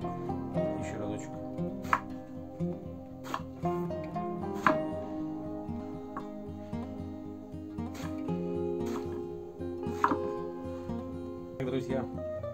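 Knife chopping eggplant into small cubes on a board outdoors, repeated sharp taps at an uneven pace under steady background music or hum, with some nearby talk.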